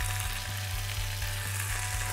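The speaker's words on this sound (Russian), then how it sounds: "И быстро обжариваю рыбку." Cod wrapped in bacon fries in a pan of vegetable oil with garlic, a steady close sizzle with a low rhythmic thump running underneath, heard alone without talk.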